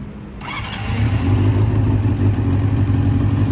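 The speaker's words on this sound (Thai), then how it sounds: "แล้วผมก็จะสตาร์ทสตาร์ทแบบไม่เบิร์นด้วยนะครับ สตาร์ทกดเฉย" A Honda CB400 Four motorcycle engine cranks briefly on its electric starter, then catches and settles into a steady, loud idle close by.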